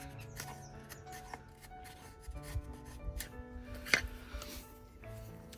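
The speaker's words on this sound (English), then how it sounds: "I'm going to choke up on this blade and I'm going to start to use it like a draw knife." A Darien machete held short like a draw knife shaves a wooden spoon blank, producing repeated close scraping and rasping strokes with a sharp knock partway through, over faint background hum.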